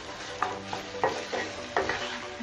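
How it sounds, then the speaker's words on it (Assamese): Pork with sesame seeds frying in a pan, a continuous sizzle broken by repeated scraping stirs at a steady, unhurried rhythm, close and fairly loud. "অকণমান সময় এনেকৈ শুকানে শুকানে ভাজি লওঁ"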